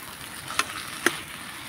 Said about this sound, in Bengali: তো মশলার সঙ্গে আলুটাকে আমি ভালো করে কষিয়ে নেব